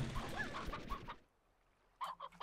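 A chicken clucks in the video game Slime Rancher, with a run of quick clucks, a short pause, then a few more clear clucks at close range.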